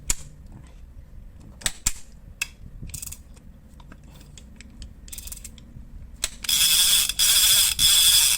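Mechanical clicks and small handling sounds, then bursts of rapid ratcheting from a Daiwa Sealine 600 fishing reel clicker, loud and close, in three quick runs.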